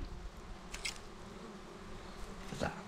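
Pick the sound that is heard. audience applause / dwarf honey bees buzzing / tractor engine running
dwarf honey bees buzzing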